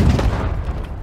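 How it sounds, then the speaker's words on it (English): Cannon fire in the naval video game The Last Leviathan: a single loud, booming blast with a deep rumbling tail that fades over about a second. "Frickin' cannons."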